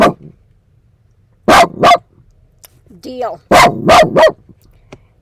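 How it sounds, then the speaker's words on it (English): A dog barks nearby in two quick bursts of sharp barks, with a short stretch of muffled voice between them. "what are you barking?"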